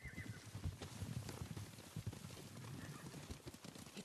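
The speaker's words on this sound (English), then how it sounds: "Horses, they're coming for us." Horses gallop in Ghost of Tsushima, a busy run of close, loud hoofbeats thudding irregularly throughout.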